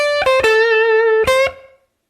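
A short blues guitar lick in A is played at full speed on electric guitar with distortion, starting with sharp picked notes, then a sustained bent note, two more quick attacks and a fading tail.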